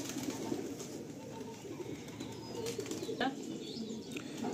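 Pigeons for sale at a bird market coo softly amid a steady ambient murmur, with a brief flurry of wing flaps breaking through near the end.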